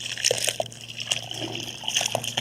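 Water soaks into a planting hole dug for a Loropetalum chinense Black Pearl shrub, with close, soft gurgles, trickles and small bubbling pops as the soil drinks it in.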